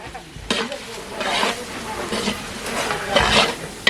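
A spoon stirs masala with onion, tomato and chilli powder in a hot pan for an eggplant curry. The steady frying sizzle is broken by rhythmic scraping strokes, with faint voices in the background.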